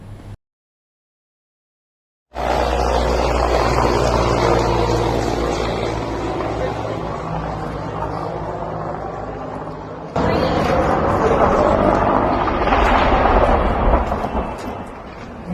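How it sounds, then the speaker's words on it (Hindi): A military transport helicopter roars close by, a loud, heavy rumbling drone with gusty buffeting that continues throughout. "इंडियन एयरफोर्स का MI-17 V5 हेलीकॉप्टर है जो क्रैश से कुछ ही लम्हात पहले का है"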